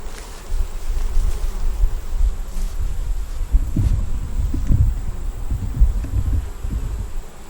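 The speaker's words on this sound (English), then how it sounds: "We have little bees up here." Honey bees buzz in an opened hive, a close, constant droning hum with swelling and fading individual buzzes as bees move near, with faint handling noises and no talk.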